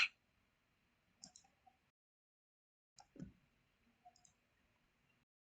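A computer mouse clicks a handful of times, each click faint and isolated in a quiet room.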